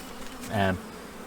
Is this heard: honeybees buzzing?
yes